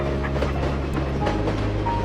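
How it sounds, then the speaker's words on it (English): A moving train rumbles along the tracks with a steady, dense roar and faint clickety-clack from the rail cars, heard up close and continuous for a couple of seconds. "leaping onto the rear of the train."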